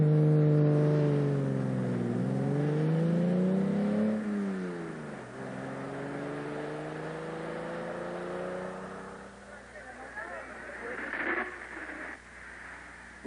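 A vintage sports car engine revs up through first gear in rising, sweeping tones, eases off, climbs again and fades into rougher noise. Loud and close, with no talk over it.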